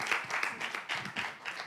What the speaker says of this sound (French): Applaudissez pour eux également parce que ça se challenge fortement.